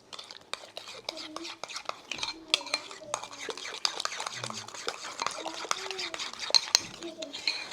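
A spoon clinks and scrapes steadily in a bowl while banana ketchup and pepper are mixed in, small rhythmic taps and stirring close by under soft talk.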